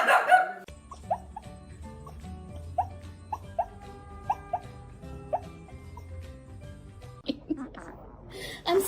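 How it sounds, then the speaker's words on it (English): A three-legged dog gives a string of short, sharp barks at a steady rhythm indoors, each bark distinct and fairly close, with background noise and human voices at the start and end. "He only has 3 paws, so he does a little kick every time he barks."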